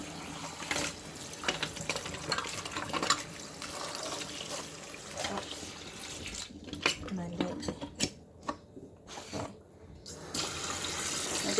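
A kitchen tap runs into a sink to soak bacon for breakfast, water splashing steadily while dishes and utensils clatter and clink now and then, close by, with no one talking.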